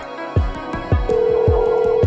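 An electronic phone ring tone sounds steadily, with a sustained tone over a repeating pulsing beat, loud and close.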